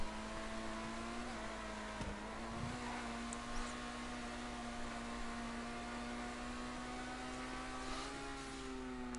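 Racing car engine at full throttle in a video game, a steady sustained high drone with strong harmonics and a slight pitch rise near the end, loud and continuous with no talk.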